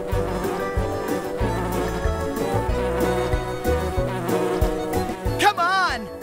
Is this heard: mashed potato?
no